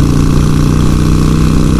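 A Harley-Davidson Sportster motorcycle engine idling close by, a loud, steady low throbbing rumble that holds evenly for a couple of seconds with no talking.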